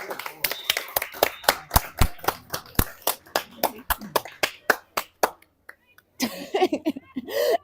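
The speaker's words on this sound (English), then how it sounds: "I have to clap away from the microphone" Sharp, uneven hand claps ring out close to the microphone at a women's lacrosse game after a goal, about two dozen in a quick run, then stop briefly before voices pick up.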